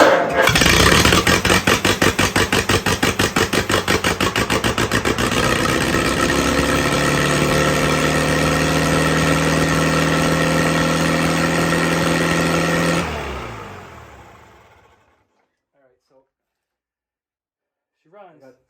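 An IH Farmall Super A tractor engine fires up with a rapid, chugging rhythm that settles into a steady, loud running drone for several seconds, then cuts off and falls silent.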